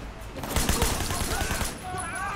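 Rapid bursts of heavy gunfire from a big gun in the Sleeping Dogs video game, a dense run of shots over about two seconds, loud and close, with faint game sounds behind.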